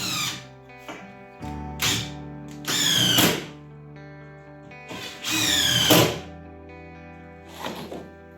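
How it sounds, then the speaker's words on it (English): A drill driving screws into a pre-drilled kitchen carcase: several short whirring bursts separated by pauses and light knocks, close and moderately loud, with no talk. "I'll just put in the screws here this side again"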